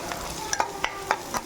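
Vadagam and onion sauté in a pan for kola fish kulambu, a soft continuous sizzle under several quick, sharp scraping stirs close by.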